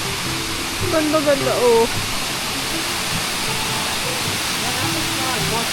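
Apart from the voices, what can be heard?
waterfall at Waterfall Gully, Adelaide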